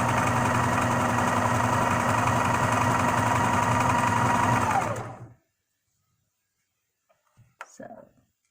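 A sewing machine runs steadily and loudly while stitching a shirt, its motor whirring continuously for about five seconds before stopping, followed by silence and a brief faint voice near the end.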